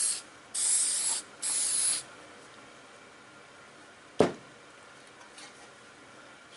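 Aerosol sandable primer sprayed onto motorcycle parts in two short close hissing bursts, then quiet, followed by a single sharp knock.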